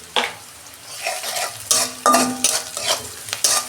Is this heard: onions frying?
yes